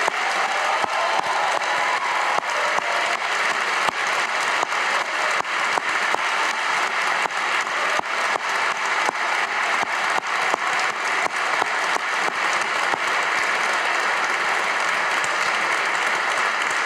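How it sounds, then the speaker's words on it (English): A large graduation convocation audience applauds the 2018 graduating class, with dense, steady clapping sustained throughout, loud and continuous with no voices over it. "please join me in one more round of applause for the 2018 graduating class."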